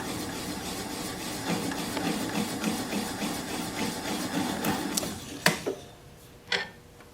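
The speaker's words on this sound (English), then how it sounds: "I'm just going to press the bevel of the gouge against the bottom of the bowl." Wood lathe gouge with its bevel pressed against the bottom of a spinning natural edge maple bowl gives a soft, steady scraping hiss under the motor hum, then a couple of sharp clacks near the end.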